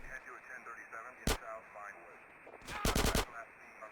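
Short bursts of SMG fire in GTA San Andreas, one quick burst and then a longer rattling volley, heard over quiet game background sound and music.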